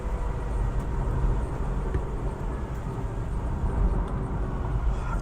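Steady, loud rumble of a BMW E46 330Ci race car on brand-new Michelin PS4 tyres running on a wet road, continuous tyre hiss and engine drone heard from inside the car with no pauses.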